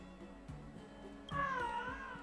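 In the Honkai: Star Rail video game, a cat lets out one drawn-out, wavering meow midway through, clear and fairly close above soft rhythmic background pulses.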